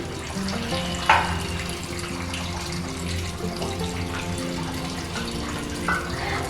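Cornflour and water mixture is poured little by little into a watermelon dessert, giving a steady close liquid pour with a soft splashy wash and a brief sharper splash near the start.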